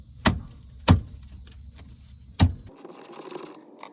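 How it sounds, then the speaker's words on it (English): A 13 mm socket breaking a brake banjo bolt loose on a C6 Corvette caliper, three sharp metallic clicks or cracks spaced apart over a faint low hum, then a brief shift in background noise. "what I've got here is a 13 millimeter socket. I'm going to go ahead and break this banjo bolt loose."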